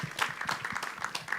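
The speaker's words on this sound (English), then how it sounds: "I want to give her a round of applause" Audience applause for a youth panelist at a tolerance day conference, quick, busy clapping at moderate level throughout with no voices.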